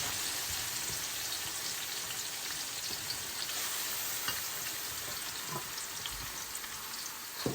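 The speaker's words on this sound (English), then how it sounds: "I'm just going to cover it up and allow it to fry a little bit" Leafy greens fry and get stirred in a pan for Liberian-style fried greens, a steady broadband sizzle with scattered crackles and pops, close and continuous, no voices.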